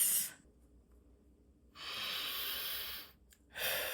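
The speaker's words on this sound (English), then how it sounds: "deep breaths." Deep breaths drawn in and let out, each a loud, close, airy rush, with two long breaths separated by silence and a third starting at the end, no talking.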